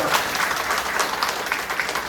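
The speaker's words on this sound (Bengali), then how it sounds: "এছাড়া সুজনের জন্য একটা হাততালি।" A roomful of attendees at a translation skill-development workshop applauds, a brief burst of scattered clapping from a modest crowd, fairly close and steady throughout.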